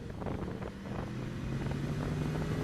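A motorcycle ridden on a track through a hill and curve, engine droning steadily with a rising and falling tone as throttle and gentle braking alternate, with wind noise over the microphone throughout.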